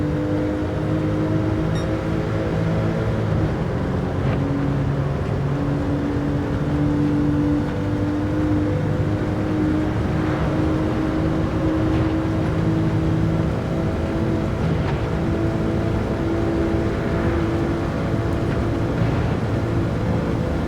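A Porsche engine drones steadily in a VR racing game, a loud sustained hum with shifting pitch as the car drives around a track, with faint tyre or wind noise and no talk.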